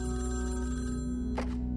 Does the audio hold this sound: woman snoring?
no